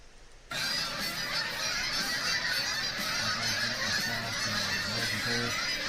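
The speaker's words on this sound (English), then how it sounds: "The geese." A dense, continuous chorus of geese honking fills the whole stretch, loud and crowded, with many overlapping calls and no pauses.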